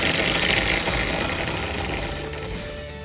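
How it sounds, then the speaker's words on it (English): A handheld electric mixer creams sugar for moist banana bread, giving a steady, loud motor whir with a gritty texture that runs the whole time and fades slightly toward the end, with no talking. "with a hand mixer, I'm going to cream the sugar."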